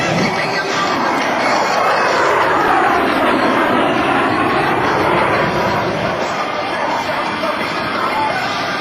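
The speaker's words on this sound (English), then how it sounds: "repositioning the A-10 for a slow roll along the shoreline" An A-10 Thunderbolt II Warthog jet flies at an air show along a shoreline, a loud, continuous roaring engine sound that swells and shifts in pitch as the aircraft passes.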